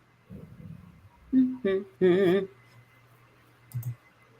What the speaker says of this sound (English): I'm clicking the wrong thing